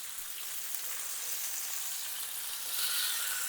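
Pomfret fish shallow-frying in a pan over a medium flame, a constant gentle sizzle and crackle that swells slightly near the end, heard alone without talk.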